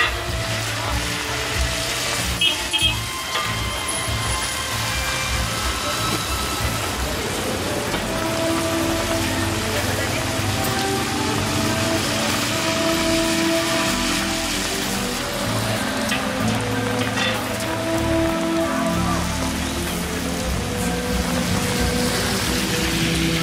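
Steady rain falls on Mactan Island in Cebu, a continuous broadband hiss of drops on surfaces that stays loud for the whole stretch, with traffic-like rumble and faint voices mixed underneath.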